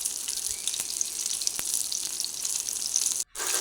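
Bangude mackerel fish fries in oil, giving a steady close sizzling hiss with a few faint ticks and pops, briefly dropping out near the end, with no voices.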